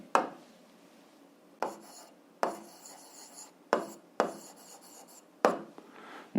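Pen or pencil strokes scratch across paper while a math solution is written out for a grade 7 algebra problem, several separate short rasping bursts at irregular intervals, close and quiet, with no talking.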